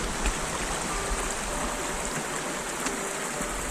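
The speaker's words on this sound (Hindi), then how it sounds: "एक नदी की आवाज हमें पुकार रही है" A Himalayan river rushes steadily on a trek trail in Himachal Pradesh, a dense, continuous close-up roar of flowing water with no voices present.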